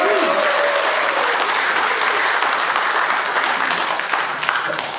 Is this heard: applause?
yes